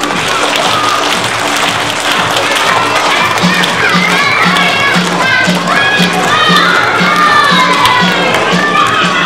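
A crowd of children at a school fire safety assembly cheers, shouts and claps loudly and continuously, with excited voices rising over a steady rhythmic thump.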